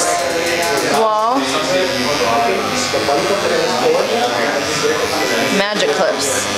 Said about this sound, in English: I really like these cordless trimmers or cordless clippers.